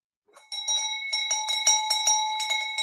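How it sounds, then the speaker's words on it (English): A small bell rings close and loud in quick repeated strikes, making a bright, sustained chiming for about two seconds. The clip is otherwise quiet, with no speech. "Jeremy, I'm going to give you a little bell ring"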